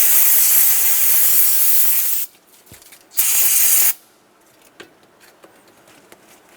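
Parts cleaner sprays onto a rag during Toyota Tundra starter replacement: a long loud hiss, a brief pause, then a second shorter burst, followed by faint handling clicks and rustling.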